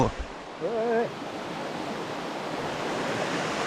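A stream runs past a campsite beside the water, a steady rushing wash heard close, with a brief voice at the start before the flowing water continues alone.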